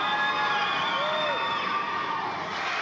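A packed high school basketball crowd cheers and whoops in a steady, loud roar, with a few shrill voices rising above the din.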